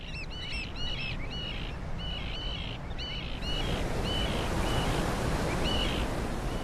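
Hungry oystercatchers on a rocky shore give repeated sharp, piping calls in quick bursts over steady surf noise, the calls fairly close and carrying clearly above the wash.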